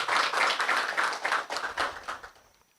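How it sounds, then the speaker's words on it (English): At a press briefing launch, an audience gives a round of applause: rhythmic, fairly close clapping that carries on for about two seconds before tapering off into quiet. "Let's give that a round of applause,"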